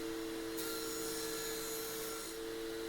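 A saw cuts a plywood strip into small pieces for a DIY inline dog hole clamp, a continuous buzzing rasp over a steady machine hum, with a brighter stretch in the middle.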